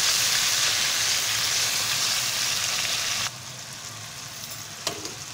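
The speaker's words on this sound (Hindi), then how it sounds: "अब इसमें डालते हैं प्याज का पेस्ट। इसको करते हैं फ्राई।" Onion paste fries in hot oil in a pot with a loud, dense sizzle that drops suddenly to a quieter crackle partway through, followed by a few sharp stirring clinks, close up and without talk.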